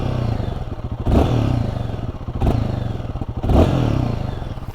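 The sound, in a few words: Royal Enfield Guerilla 450 single-cylinder motorcycle engine running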